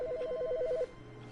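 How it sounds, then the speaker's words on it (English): A telephone in The Stanley Parable rings once with a rapid warbling electronic trill lasting under a second, clear and fairly close, then cuts off into quiet room tone. "There's a phone calling."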